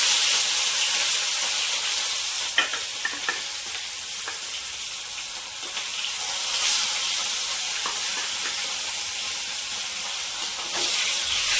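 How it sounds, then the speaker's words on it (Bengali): Fish fries in a pan of hot oil with a steady, dense sizzle and crackle, broken by occasional sharp clicks and scrapes of stirring; no one speaks. "এক এক করে আমি মাছটা ভেজে নেব।"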